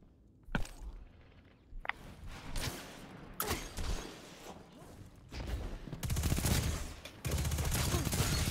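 SMG fire in a one-versus-one video game match: scattered single shots early on, then loud, rapid bursts of automatic fire close up toward the end.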